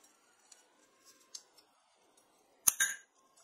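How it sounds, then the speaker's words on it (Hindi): Scissors cut a metal plate while a solder remover machine is being built, giving one sharp, loud snip with a short metallic clink after soft handling noises. "कटर से नहीं कट रहा था इसलिए मैं यहाँ पर कैंची का इस्तेमाल कर रहा हूँ"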